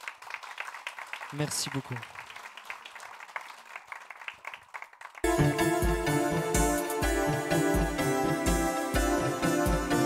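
Brief applause in a radio studio for a singer, the clapping mixed with talk, then cut off abruptly as loud music with a steady beat starts; someone speaks briefly over the clapping.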